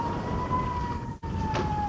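Air raid siren wailing over a village under Hezbollah rocket fire, a steady sustained tone heard at a distance, fairly faint and alone, with no one talking.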